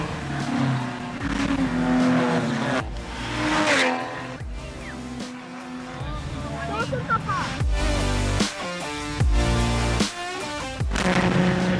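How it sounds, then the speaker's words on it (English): A race car screams off the start with spinning, squealing tyres and roaring engine bursts, with other cars rumbling and revving nearby in loud, choppy surges. "Smoking the tires out the blocks."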